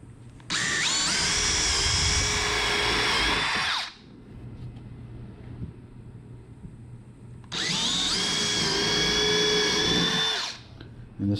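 A power drill boring mounting holes for a trolling motor kit on a Perception Pescador Pro kayak, two sustained high whining bursts of several seconds each, separated by a pause with quiet background noise.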